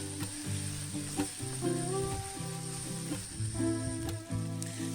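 Bashed lemongrass with two kinds of chilies sizzles in a pan while being stirred, a steady frying hiss with scraping and clinking of the utensil against the pan.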